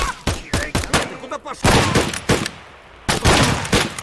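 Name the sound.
gunfire in the video game Escape from Tarkov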